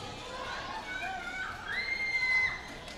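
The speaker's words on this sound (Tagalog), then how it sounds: "Matindi yung hiyawan na dito." Crowd noise at a Ligao vs Libon basketball game in the Ako Bicol Cup, a sustained roar of shouting and cheering with rising excited voices, swelling louder near the end.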